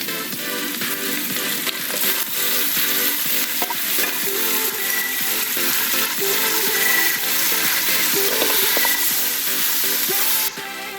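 Chopped tomatoes being sautéed and stirred into a spicy tofu sambal base with curry leaves in a pan, giving a loud, steady frying sizzle with scraping stir strokes throughout, no voices.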